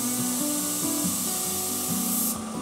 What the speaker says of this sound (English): when it comes to airbrushing, I always like to add the dark colours first and then overspray with the paler ones